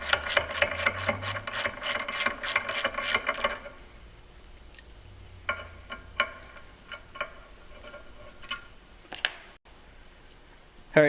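A ratchet loosens clutch bolts on a Wildcat side-by-side fitted with Team Industries clutches, giving a fast run of close clicking for a few seconds, then scattered lighter metallic ticks and clinks.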